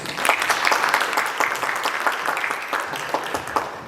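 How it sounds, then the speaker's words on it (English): An audience at a university storytelling event gives a round of applause welcoming a speaker, loud, dense clapping sustained throughout with no talk. "Please, ladies and gentlemen, welcome Rodolfo with a round of applause"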